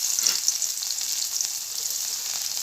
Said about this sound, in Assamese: মাছৰ কেৰাহীতে এয়া নহৰু দিছোঁ।